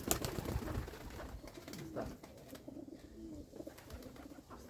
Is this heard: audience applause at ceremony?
no